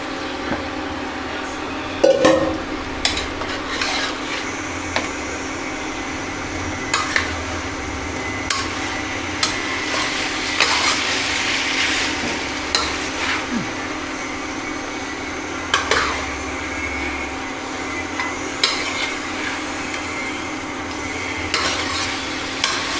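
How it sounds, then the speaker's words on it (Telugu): Boiled mutton pieces are stirred into sizzling masala for a simple bachelor-style mutton curry, with repeated scraping and clinking of a spoon against the pan over a constant frying hiss. "ఇప్పుడు మనం ఉడకబెట్టుకున్న మటన్ ముక్కల్ని మిక్స్ చేసుకుంటాం."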